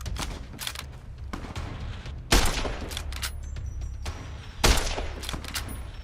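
Gunfire in modded Fallout New Vegas on PC, a steady loud stream of rapid shots with two heavier booming blasts standing out, close and continuous.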